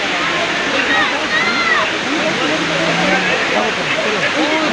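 A waterfall near Shillong, Meghalaya, gives off a loud, steady rushing roar with voices talking over it.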